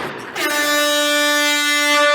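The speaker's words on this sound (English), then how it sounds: "Foghorn for the Caribbeans." A loud, sustained air horn blast starts abruptly after a short pause and holds a steady, brassy tone to the end, with no voices.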